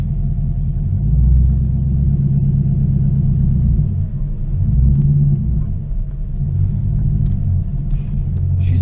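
A Chinavette car, fitted with a new RPM transmission and TCI torque converter, idles at a deep, steady engine rumble while warming up, loud and close, with slight swells in the drone.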